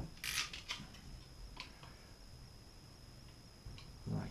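A piece of plastic pipe is cut for a pencil-style fishing lure, giving a few sharp, close snipping clicks at the start and a dull thud near the end, with quiet room noise in between.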